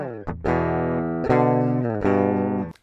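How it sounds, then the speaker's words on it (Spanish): A clean, unprocessed electric guitar line signal plays a few sustained notes and chords, each ringing out before the next, dry and close with no effects. "la señal de línea suena así"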